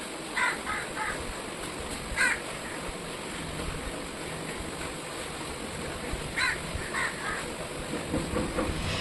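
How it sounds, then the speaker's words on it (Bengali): Birds call near a forest in the morning, including crow caws, as short bursts scattered over a steady low rumble of a passing train on rails. "সকাল সকাল পাখির আওয়াজগুলো কি ভালো লাগে না?"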